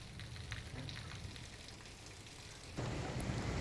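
Rain falling in a rural area of Gujarat during a thunderstorm, a continuous faint hiss of steady rainfall with a low rumble underneath that swells louder near the end.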